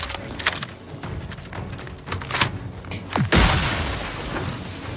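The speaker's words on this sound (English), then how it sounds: "A grenade on its predetermined..." A grenade detonates in The Outer Worlds 2, a sudden loud boom with a broad roaring blast that swells and lingers, preceded by scattered clattering game sounds.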